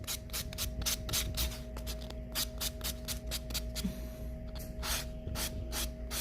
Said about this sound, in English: use your buffer to gently buff on the nails and remove any residue, thin layer that's left on the nail